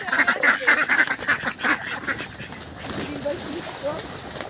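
Hens in a backyard coop squawk and cackle in agitated bursts while being caught, loud and close during the first two seconds and then thinning to scattered clucks, with a voice speaking over parts of it.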